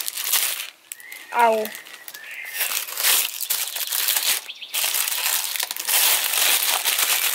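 A small plastic bag from a fan mail package crinkles and rustles close up in repeated bursts of crackling, with someone speaking briefly among the handling noises.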